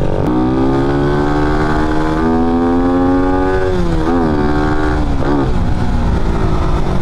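A Raider 150 FI motorcycle engine with an open airbox revs loudly up close, its pitch climbing steadily, then dropping and surging in a few quick throttle blips, with no voices.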